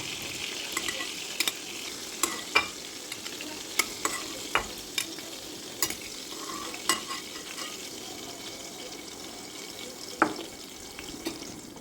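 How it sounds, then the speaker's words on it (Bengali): A utensil scrapes and clinks sharply against a wok at irregular intervals, lifting out fried pointed gourd, over a quiet, steady sizzle of oil. "এখন কড়াই থেকে তুলে নেব।"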